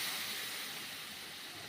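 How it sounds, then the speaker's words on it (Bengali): Milk poured into a hot pan of ghee-fried grated carrot for carrot halwa gives a steady, broad hiss that holds evenly for under two seconds, with no voices. "একটু ভাজা মতন হলে এর মধ্যে ঢেলে দিচ্ছি দুধ।"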